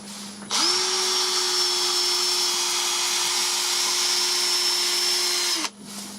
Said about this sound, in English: I've got my lathe running at about 400 RPM there